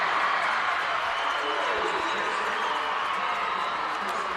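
Distant crowd cheering and applause from a neighboring girls' state volleyball semifinal match in a gym, a steady, dense roar sustained throughout with no clear breaks.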